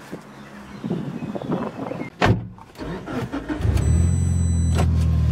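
Mitsubishi Lancer Evo 8 at an outdoor car show, its engine starting with a loud burst and then settling into a steady low idle that grows louder, under background chatter and a brief electronic tone.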